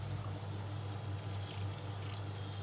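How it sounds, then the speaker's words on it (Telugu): Steady pouring of water into a pan with a continuous low rumble and wash, close by and fairly loud, no voices. "1/2 కప్పు వాటర్ యాడ్ చేసి."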